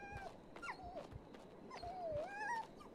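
A trapped dog in the horror game Maid of Sker whimpers in several rising and falling whines, with soft thumps between them, close and clear.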